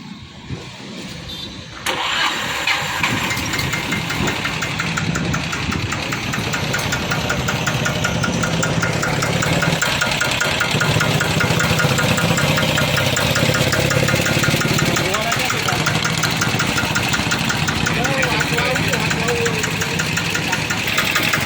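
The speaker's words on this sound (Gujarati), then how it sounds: "હવે તમને અમે ચાલુ કરીને બતાવી એનું એન્જિન પાવર બધું" After a brief quiet, a Sanedo mini tractor engine cranks and catches, then settles into a loud, steady, knocking idle that chugs on at close range.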